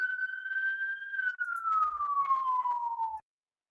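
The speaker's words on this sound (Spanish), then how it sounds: "Pasando ambulancia, creo." A single wailing ambulance siren tone slowly falling in pitch as the ambulance passes, fairly clear, then cutting off abruptly.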